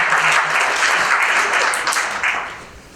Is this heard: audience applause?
yes